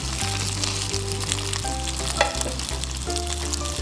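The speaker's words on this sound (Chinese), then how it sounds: "用小火中小火去做一个煎的动作" Okonomiyaki batter frying in a flat pan over low to medium heat with a little garlic-flavoured oil, giving a steady, close sizzle that runs unbroken throughout with a low hum beneath it.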